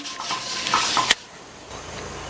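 Dosa batter hits a hot, lightly oiled griddle with a loud hiss and a brief metallic clank of the ladle, then settles into a quieter, steady sizzle.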